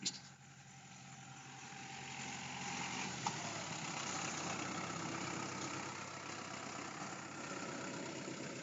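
A truck engine idles steadily while backing up at a roadside house in rural Thailand, a constant mid-low rumble with a brief knock near the start and a faint click midway.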